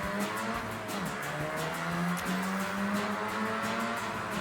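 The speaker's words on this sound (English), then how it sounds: "Yeah, good engine sound" A car engine in the Forza Horizon 6 racing game hums steadily at moderate revs, a continuous droning tone with slight pitch wavering and faint rhythmic ticks, alone without music.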